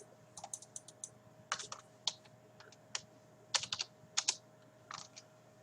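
Typing on a computer keyboard while installing cuDNN for PyTorch on a Windows 10 PC: scattered clusters of light, clicky keystrokes in irregular bursts, fairly close and quiet over a faint steady electrical hum.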